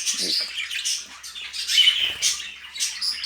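Breeding birds in an aviary, English-type males paired with local females, give bursts of high squawks and chirps at close range. The calls are short and irregular, with brief gaps between them.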